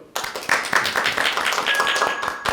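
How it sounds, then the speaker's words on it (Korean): A short burst of scattered applause from a small forum audience welcoming a speaker, claps ringing out briskly and unevenly before tapering off. "박수로 환영해 주십시오."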